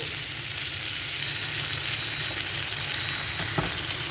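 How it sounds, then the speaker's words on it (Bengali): Bombay duck fish simmer and sizzle in a thick curry as they are gently flipped, making a steady close hiss broken by one soft knock near the end. "এখন আমি আস্তে আস্তে মাছগুলোকে একটু উল্টিয়ে দেবো এইভাবে একটু উল্টিয়ে পাল্টিয়ে দিতে হবে মাছগুলোকে"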